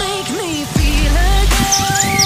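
Parakeets chirping and calling back and forth, loud and close, with rising and falling whistled notes and a burst of sharper tweets partway through.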